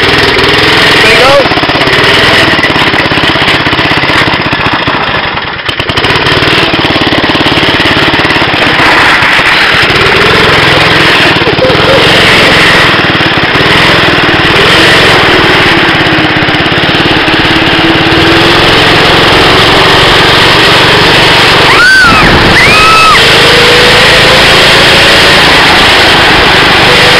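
Small go-kart engine runs loud and close, a buzzing high-pitched drone that holds a steady idle as the kart slows, with brief louder bumps and a short rising whine partway through.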